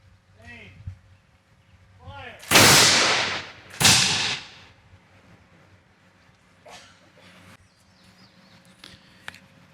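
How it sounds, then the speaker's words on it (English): Ceremonial rifle salute fired by Long Hunter reenactors at a remembrance ceremony: two loud, sharp volleys about a second apart, each decaying quickly, with faint voices and quiet background before and after. "We have Long Hunter reenactors here with us today, and they are prepared to fire a salute."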